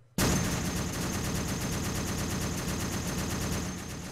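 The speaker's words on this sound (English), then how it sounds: "I'm gonna fire into the village." Sustained automatic gunfire in ARMA 3 rattles as a rapid, even burst of shots into a village, starting abruptly after a brief silence and continuing loud and unbroken before tapering slightly at the end.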